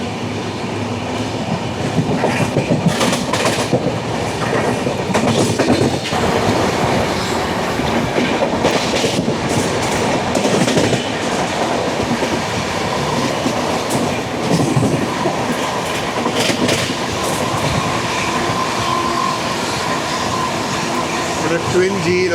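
Twin WDG6 diesel locomotives haul a train of cement hopper tankers past, a steady loud rumble with rhythmic clickety-clack of wagons running continuously near the track on a bypass line.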